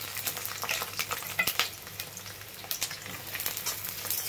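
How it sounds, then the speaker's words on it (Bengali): Sliced eggplant fries in hot oil in a pan, giving a steady, close crackling sizzle with occasional soft stirring scrapes and no talking. "বেগুনটা ভালো করে লাল লাল করে ভেজে তুলে রাখবো"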